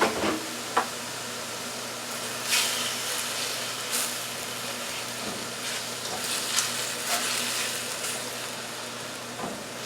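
Shrimp sizzling steadily in a hot pan of lo mein, a continuous frying hiss with occasional louder crackles and spatters, heard alone without talk.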